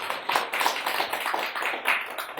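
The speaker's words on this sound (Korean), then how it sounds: "우리 뭐 예배 중이지만 박수 한번 쳐드릴까요?" A church congregation claps together during a worship service, a fairly quiet but continuous patter of many hands, evenly sustained and slightly distant, with no talking over it.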